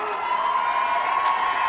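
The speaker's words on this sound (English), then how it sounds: "This crowd is on their feet for Luke." A high school boys basketball crowd on senior night, Corry Beavers versus Titusville Rockets, roars in a dense, sustained cheer that fills the gym at full loudness without a break.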